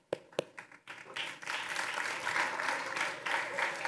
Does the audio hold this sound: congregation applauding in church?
yes